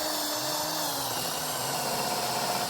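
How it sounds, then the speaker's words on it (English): A drill spins a wire wheel against metal axle parts outdoors, a steady, harsh whirring scrape that runs continuously without pause. "I'm using a wire wheel on a drill, not ideal."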